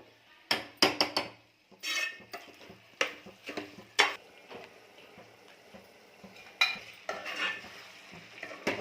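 Mutton liver and chicken curry being stirred in a pan, with a series of sharp, close scraping and clinking strikes of a utensil against the pan, irregular and loud, alone with no talk.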